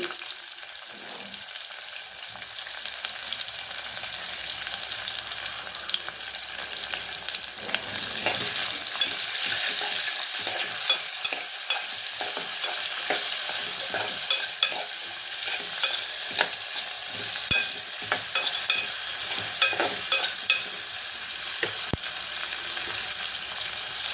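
Green chillies frying in hot oil for masala rice, a continuous close sizzle broken by repeated spatula scrapes and stirring clicks that grow busier over roughly twenty-four seconds.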